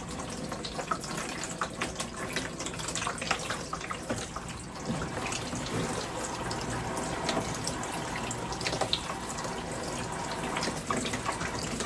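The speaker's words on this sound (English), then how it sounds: "after potting, I will usually water from the top just to get everything rinsed off nicely" Water pours from the top onto a newly potted houseplant in a steady, continuous trickling splash, close and moderately loud, running without interruption and with no talking.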